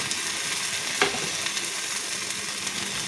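Spice paste with turmeric and salt stir-fried in a pan for a stingray fish curry makes a steady close sizzle, with a sharper scrape of stirring near the one-second mark.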